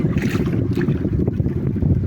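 Loud, dense wind roars against the microphone without a break, a low blustery rush lasting the whole moment.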